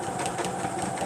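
A sewing machine running steadily at close range with a dense mechanical whir and rapid needle clatter, skipping stitches, over a short continuous stretch.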